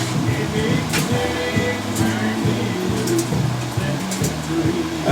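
An air compressor runs with a steady, loud whooshing roar and a throbbing low hum, unbroken for the whole stretch.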